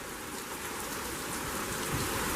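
Heavy rain falls in sheets during a storm with gusty winds, a dense, steady hiss of water pouring down, faint but unbroken throughout.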